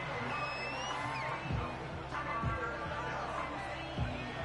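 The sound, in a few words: stadium crowd noise in Madden 25 video game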